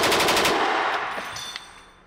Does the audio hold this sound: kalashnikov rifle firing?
yes